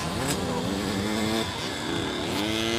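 Buzzing, high-revving two-stroke engines of 50cc motocross motorcycles racing at a local event, pitch rising and falling as riders work the throttle nearby under crowd noise.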